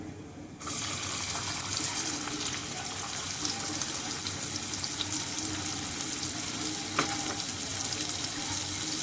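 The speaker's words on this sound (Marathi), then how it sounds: "तेल तापलंय आपलं. हिंग घाललं, जिरं, कांदा घालायचा आहे आपल्याला." Onion dropped into hot oil with asafoetida and cumin bursts into a sudden loud sizzle that then holds as a steady, close hiss of frying, with faint stirring clicks and no talking.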